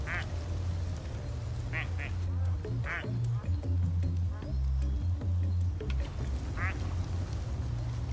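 Plastic ducks quack in the video game Placid Plastic Duck Simulator, several short squeaky quacks scattered over a rumbling low background, with people talking throughout.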